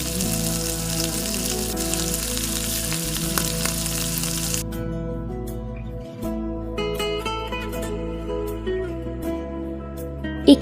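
Small sea fish frying in oil in a pan give off a steady, dense sizzle that fades partway through to a quieter, crackling fry with occasional clinks.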